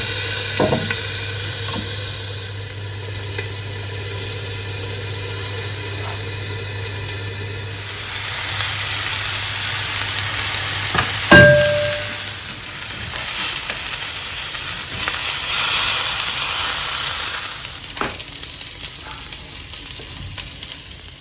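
Salmon fillet sizzles steadily in a covered pan, a continuous frying hiss with a low steady hum underneath for the first stretch, a sharp clink of the lid partway through, then the sizzle carries on alone.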